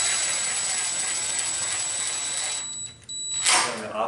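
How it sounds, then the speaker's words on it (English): A power drill drives screws from a door jamb into a header, whining steadily and loud and close for several seconds, then briefly dropping off and spinning back up at the end. "we're going to install the 2 screws from the jamb to the header"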